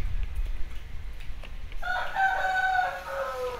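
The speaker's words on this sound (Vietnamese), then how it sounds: "Sao tụ bài số 2 gà gáy dữ vậy ta?" A rooster crows once in a drawn-out call that rises and trails off, heard clearly over a low rumbling background.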